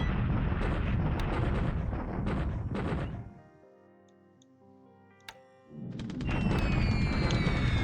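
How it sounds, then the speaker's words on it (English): Bombs fall on an airfield in the Pacific War strategy game, a dense rumbling barrage of explosions that drops into near-silence with a single sharp click, then the blasts roar back loud and continuous. "A little bit more bombing here, trying to destroy that airfield."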